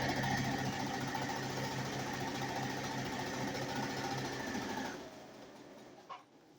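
A sewing machine runs steadily, stitching a quarter-inch seam across quilt charm squares for a nine-patch block, with a constant mechanical whir that stops near the end, followed by a small click.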